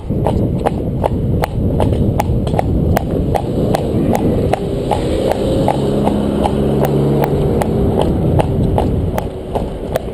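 Horse hooves clip-clop on a road in a steady, even rhythm of sharp, distinct strikes, close and clear over a constant low rumble of background traffic or engine noise.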